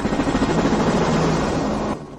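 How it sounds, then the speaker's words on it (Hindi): A helicopter's loud, steady rotor thrum and engine roar close by, with rhythmic chopping pulses before cutting off abruptly. "Helicopter Bera, helicopter Bera."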